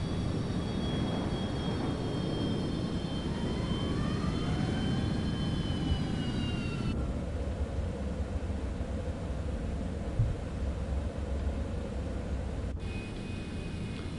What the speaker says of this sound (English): Someone's in a fast jet.